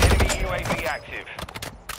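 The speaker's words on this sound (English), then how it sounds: "Who's shooting me, bro?" Rapid gunfire crackles in a Warzone Mobile match, a dense burst of sharp shots followed by scattered reports, with a voice speaking over the start.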